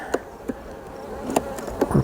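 Honey bees buzzing around an open beehive on a cool day, a steady close drone with individual bees whizzing past the listener several times.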